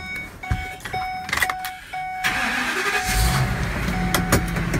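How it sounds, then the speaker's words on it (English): A Ford pickup truck engine cranks and catches at a scrap yard, with clicks and clunks before a loud rumbling idle takes over. No voices are heard. "Well, it sounds like a Ford, don't it? When it starts."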